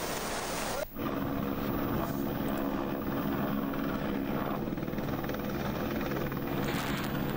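A helicopter rescuing people from floodwaters in Punjab, its rotor producing a steady, loud, continuous thrum and whine after a brief dip near the start, with no voices.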